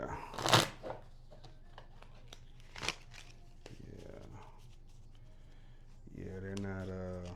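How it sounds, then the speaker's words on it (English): Tarot cards being shuffled by hand during a reading, with a few sharp riffling and snapping bursts up close, and a voice talking beneath and after them. "let's get a little shuffle on this."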